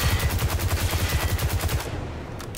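Rapid automatic gunfire from a Destiny 2 weapon rattles out as one loud, tightly spaced burst for nearly two seconds, then cuts off abruptly into quiet.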